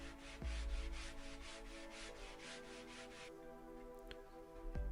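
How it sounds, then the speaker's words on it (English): Cloth buffing furniture wax into the top of a restored wooden side table, giving a steady rhythmic rubbing with regular back-and-forth strokes that stops partway through, leaving quieter room sound. "And then buffing it off with a cloth."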